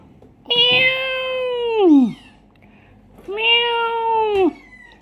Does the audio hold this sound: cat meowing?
yes